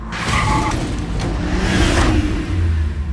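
A car engine revs hard in a movie trailer, with a roaring surge and what sounds like tires skidding. The sound is loud and cinematic and fills the short moment without speech.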